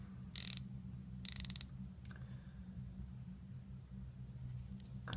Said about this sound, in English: And then you get this little tiny ratchet.